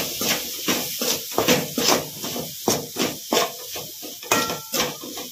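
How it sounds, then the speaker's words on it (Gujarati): A spoon scrapes and clanks against a pan as turmeric, coriander-cumin powder and red chilli are stirred in for Gujarati poha-potato snack, with a quick, irregular series of metallic strokes over a soft sizzle. "હવે બધું આપણે સારી રીતે મિક્સ કરી દઈશું."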